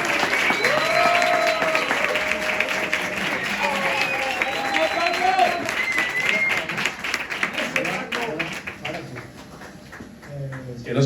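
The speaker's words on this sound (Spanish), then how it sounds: "ahora sí, un fuerte aplauso para Paco" Audience at a book presentation bursting into loud, sustained applause with cheers, the clapping thinning out toward the end as voices come through.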